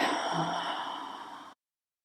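A slow, steady exhale drawn out over about a second and a half during a guided breathing exercise, close and soft, breathy air alone before cutting to silence.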